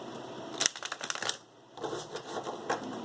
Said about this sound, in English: One more shuffle for good luck here.